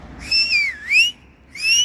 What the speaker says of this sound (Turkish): Bir ıslık çalsana bakayım.